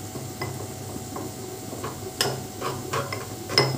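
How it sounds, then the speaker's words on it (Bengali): A spoon stirs ground spice masala loosened with milk for shahi paneer, giving a handful of soft, scattered scrapes and light clinks against the bowl, close and quiet, with no one talking. "এবার মশলাটা একটু ভালো করে গুলে নেব।"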